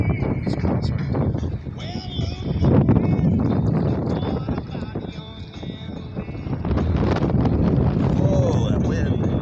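Strong wind buffets the microphone steadily on a lake as a solar-powered boat comes in to dock at an island snack stop, a loud continuous rumble with gusts and faint water sounds underneath.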